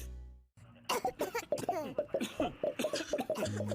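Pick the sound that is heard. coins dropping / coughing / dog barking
coughing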